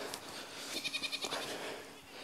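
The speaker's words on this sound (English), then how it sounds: "And now you can see the goats." Goats on a winter homestead bleat at feeding time, a quick rhythmic run of about six short bleats in the middle, fairly near, over a faint background hiss.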